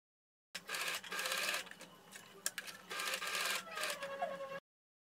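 A sewing machine stitches fabric strips for the ties of a gathered tiered dress, running in two steady bursts with a short pause between, close and fairly quiet.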